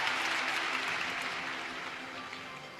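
Sustained applause from an audience at the 2012 London Olympic equestrian test event, a dense steady patter of many hands that fades slowly over a few seconds.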